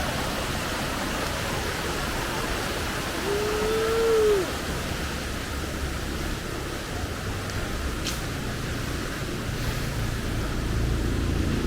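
A roadside river rushes past in a continuous broadband wash of flowing water, steady and fairly loud, with a faint whistle-like tone rising briefly early on.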